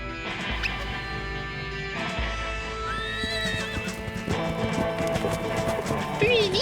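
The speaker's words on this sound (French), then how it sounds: "Un cheval." A cartoon horse whinnies in a chase scene from a French-dubbed animated children's show, its hooves clip-clopping in a quick galloping rhythm under a busy soundtrack, with short vocal calls mixed in.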